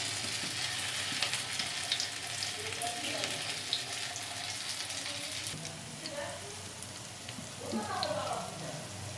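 Stuffed spiny gourd (kakrol) fries in a little oil with a broad, steady sizzle up close, with occasional spatters and a few soft clatters of turning, and no talk.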